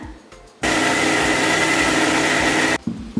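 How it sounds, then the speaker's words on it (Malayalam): A mixer grinder grinding soaked urad dal for idli and dosa batter starts abruptly and runs at a loud, steady whine for about two seconds before cutting off. "അതിൽ കുറച്ച് കുറച്ചായിട്ട് നമുക്കൊന്ന് ചേർത്ത് അരച്ച് നോക്കാം"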